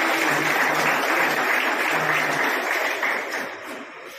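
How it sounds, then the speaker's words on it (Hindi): Loud, dense applause from a crowd filling a hall, a continuous roar of claps that holds steady before gradually tapering off near the end. "मैं जोरदार तालियों से इनका भी स्वागत"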